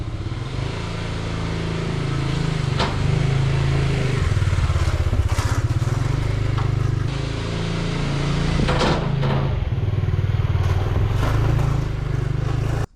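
A Zontes motorcycle, a 368G or 703F, out on a test ride, its engine droning loud and steady throughout with rushing wind noise and a few brief rattles.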